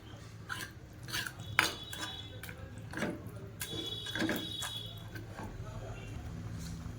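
Cooked brinjal and dried chillies are mashed in a pot, giving repeated scraping, knocking and clattering of a utensil against the vessel, close and fairly quiet, with a voice talking at times.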